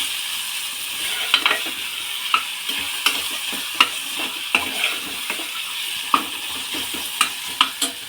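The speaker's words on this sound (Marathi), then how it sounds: "त्या भाज्यासुद्धा आपल्याला दोन मिनटं परतून घ्यायच्या" Vegetables for spiced rice being sautéed and stirred in a pressure cooker, with a steady sizzle broken by frequent scraping clicks of a spoon against the metal pot, close and continuous with no talking.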